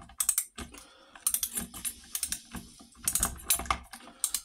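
Whitworth socket and ratchet working on the camshaft nut of a Norton Commando engine during a rebuild, giving bursts of close, sharp metallic clicks and taps with brief pauses between them.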